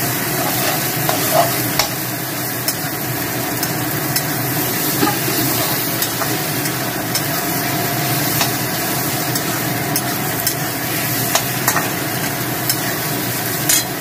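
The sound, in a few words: sautéing spice masala with coriander-cumin powder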